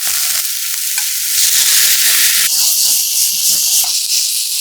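Eggplant slices fry in plenty of olive oil in a large pan over medium-low heat, a loud continuous hiss that swells louder partway through as pieces land in the oil.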